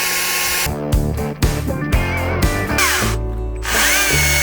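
A cordless chainsaw (Stihl MSA 60 or Husqvarna 225i) whines and revs in repeated bursts, the motor pitch rising and dropping as it cuts, loud and close.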